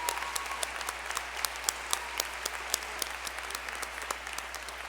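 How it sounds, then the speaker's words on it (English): Applause from an audience at a 2010 high school graduation ceremony, steady dense clapping with sharp individual claps standing out, sustained for the whole stretch at moderate distance, no talking. "Please give them a round of applause."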